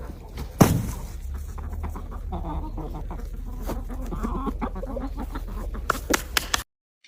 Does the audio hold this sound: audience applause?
no